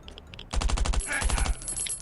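Rapid automatic gunfire in the survival shooter Last Island of Survival: a loud, close burst of about a dozen evenly spaced shots, a brief gap, then a second shorter burst, with faint clicks before it.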